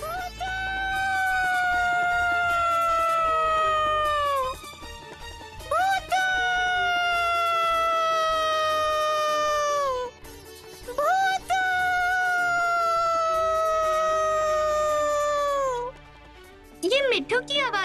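Cartoon parrot Mitthu gives repeated high, warbling cartoon bird calls, each held and sliding downward, in several long bursts with short breaks between them.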